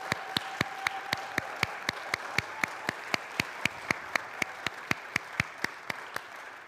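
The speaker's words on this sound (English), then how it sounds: "Friends who are here in the sanctuary, can we give a big round of applause to George?" Steady, evenly spaced claps in a church sanctuary during a worship service, quiet and regular like a small congregation clapping in rhythm, with no talking over it.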